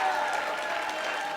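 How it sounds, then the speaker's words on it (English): Guests at a wedding reception giving a round of applause, a steady wash of clapping from a crowd, moderately loud and continuous throughout. "Let's give him a warm round of applause and welcome to the stage."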